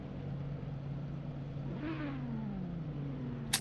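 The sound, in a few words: GT3 race car engine revving in a racing video game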